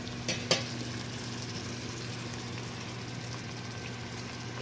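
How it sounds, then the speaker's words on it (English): Ital ackee cooks down in a pan on medium heat with a steady, close frying sizzle, and a couple of short clicks sound near the start. "I have my Ackee cooking down on medium heat"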